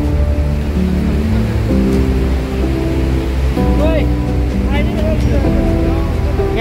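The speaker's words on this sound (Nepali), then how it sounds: "पानीको गति बढ्यो नि हो" The fast-flowing Teesta river roars with a constant heavy rush of water, while someone talks loudly over it close by.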